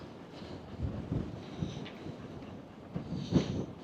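Strong coastal wind at Pembrey beach buffets the microphone in low, uneven rumbling gusts that swell and fade, with sand blowing across the road nearby and no voices.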